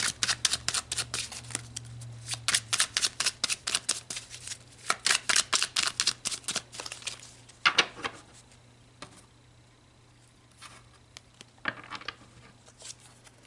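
A tarot card deck is shuffled by hand in rapid, crisp riffling bursts that come close and fairly quiet, then slow to sparse, occasional card snaps over a low steady hum.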